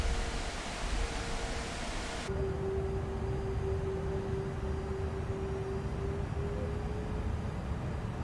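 An Airbus A330-900neo taxis in Microsoft Flight Simulator with a steady jet engine whine and broadband hiss. Partway through, a brighter rushing layer cuts off, leaving a constant lower hum with a sustained tone.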